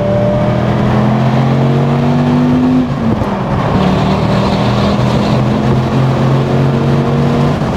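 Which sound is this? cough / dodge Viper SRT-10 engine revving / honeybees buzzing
dodge Viper SRT-10 engine revving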